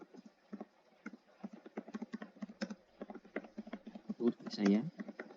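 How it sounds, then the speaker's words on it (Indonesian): Typing on a computer keyboard during an interview, a fast irregular run of light clicks and taps mixed with nearby speech. "sebentar ya, saya masih mengetik"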